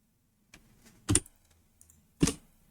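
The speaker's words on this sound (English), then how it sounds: "it's just quicker to hit the key on the keyboard than it is to come over here and just find that" Several sharp key presses on a computer keyboard, quiet and close, three distinct taps spaced about a second apart with a faint tick before them.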